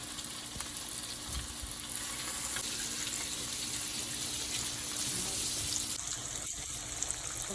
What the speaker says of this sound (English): I'm flipping these on the other side for it to fry.